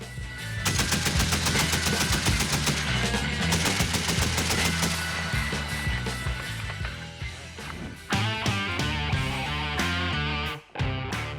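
Bursts of 12.7 caliber heavy machine gun fire, loud and close, with rapid repeated shots running almost continuously and brief gaps near the end.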